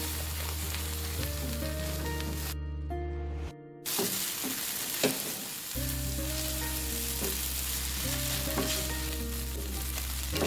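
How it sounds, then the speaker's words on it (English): Chicken noodles with egg being stir-fried in a wok over high flame, with a steady sizzle and scraping stir strokes running throughout, plus a brief quiet pause in the middle. "Increase the flame, switch to a chopstick and continue to stir fry."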